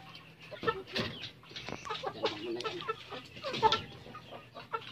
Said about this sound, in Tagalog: yung aking mga alagang manok pag nagpapakain ako, akala mo naman napapagutuman